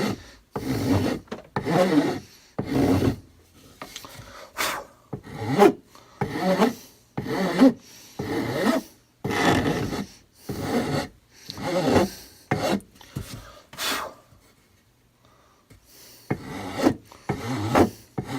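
A rasp file scrapes a wooden rifle stock of a Lyman Great Plains Rifle down toward the metal, in repeated rhythmic rough strokes with short pauses and a longer break near the end.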